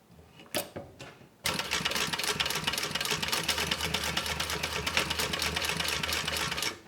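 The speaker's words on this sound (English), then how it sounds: "go ahead and baste that on, or baste your D-ring strap connector closed" A sewing machine bastes a D-ring strap connector closed on a classic unisex bag. After a couple of brief taps it runs steadily and rapidly for about five seconds, close and clear, with no talking.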